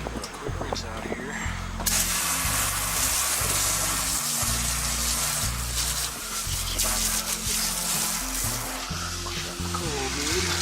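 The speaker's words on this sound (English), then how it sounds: "Quick rinse out here." A water hose sprays and rinses an outdoor HVAC unit during a mid-season maintenance check, a loud continuous hissing gush close by, with a steady low mechanical hum underneath.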